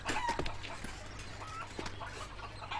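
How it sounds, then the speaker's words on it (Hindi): Chickens clucking faintly in a village setting, a few scattered short clucks and squawks against a low steady hum, with a brief muffled voice among them. "मुर्गियों"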